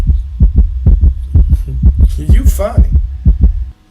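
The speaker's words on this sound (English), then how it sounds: "I got the heartbeat going for you." A heartbeat sound effect thumps in a steady double-beat rhythm, loud and close, running under casual talk between two men discussing college football before stopping near the end.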